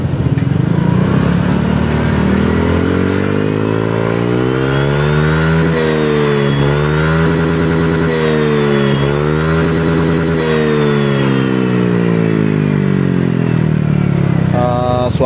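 A Honda Vario 150 scooter fitted with a racing exhaust revs loudly and close up, rising and falling through several throttle blips over a steady idle, with a harsh, raspy tone and no talking.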